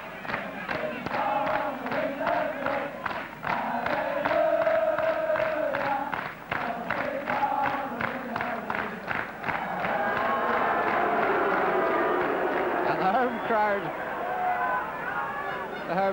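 A football stadium crowd at a West Brom v Chelsea match roars and keeps up rhythmic clapping and chanting, then settles into a broad hubbub under a commentator's voice.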